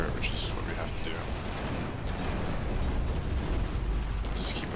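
Heavy, continuous rumbling blasts come from bombarding a resurrection turret in the top-down shooter Steel Storm: Burning Retribution, a loud unbroken roar of explosions with no quiet gaps.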